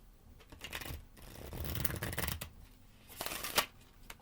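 Witch's Tarot cards riffle-shuffled by hand in quick ruffling bursts, close and fairly quiet, with a few sharper flutters and taps toward the end.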